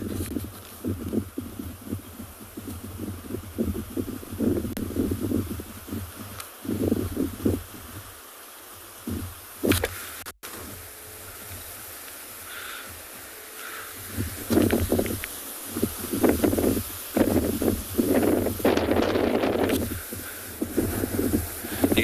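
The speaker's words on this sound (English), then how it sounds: "You can see how all the grasses and the trees are moving so much. It's very gusty here this morning." Gusty morning wind on a South African safari sweeps through moving grasses and trees, arriving in irregular rushing bursts and rustling swells with quieter lulls between them.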